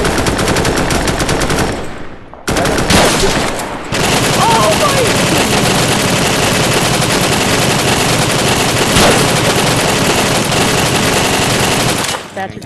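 Machine gun fire in a close-quarters trench battle in a video game: loud, sustained automatic bursts that break off briefly before resuming and continuing almost without pause to the end.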